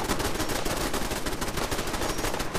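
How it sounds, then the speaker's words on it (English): Turrets at a Fallout 4 farm settlement fire in continuous rapid automatic bursts, a dense, loud, unbroken rattle of gunfire with no talk. "You can see the turrets firing over there."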